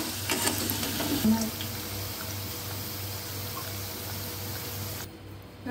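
Badusha pastries deep-frying in hot oil give a steady, close sizzle with soft bubbling and a few stirring clinks, fading as the frying dies down near the end.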